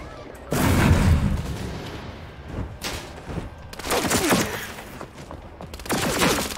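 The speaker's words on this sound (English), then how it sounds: "I'm being shot from behind, from the fucking entities" Bursts of gunfire crack and boom in an Apex Legends match, a heavy volley at first and more clustered shots later, loud and close, with a player's voice heard briefly between them.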